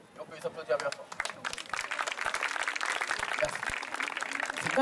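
An audience at a comedy magic and mentalism show claps and applauds, the clapping building and growing denser toward the end, with voices mixed in underneath.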